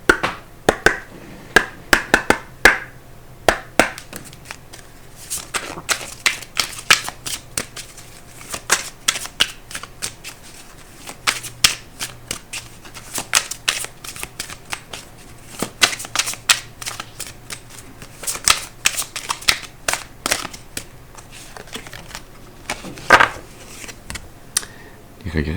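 Oracle cards from the Oracle de la voix des âmes deck being shuffled by hand, a long run of quick papery riffles and slaps in uneven bursts, close and fairly crisp, with a low steady hum underneath.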